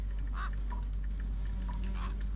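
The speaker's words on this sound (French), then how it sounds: "Oh, j'entends un corbeau." A crow in a motel-set video game gives a few faint, scattered caws over a loud constant low hum.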